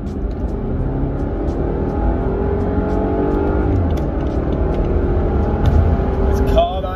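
A new car accelerates hard, its engine note climbing steadily and loudly from start to finish under constant road and cabin noise.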